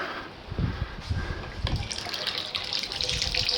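Water from a solar-powered pump pours into a vineyard storage tank through a hose, a steady close splashing gush that holds loud and even throughout.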